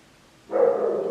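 A dog gives a sustained, loud bark or whining howl that starts after half a second of quiet and holds steadily, close to the microphone indoors.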